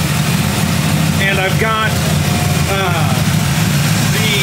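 A 1940 Ford Tudor Sedan Deluxe engine with a Holley carburetor idles in a steady, even low rumble throughout, close by, while someone talks briefly over it.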